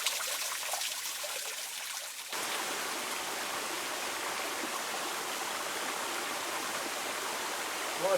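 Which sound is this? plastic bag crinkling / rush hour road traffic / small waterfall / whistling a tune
small waterfall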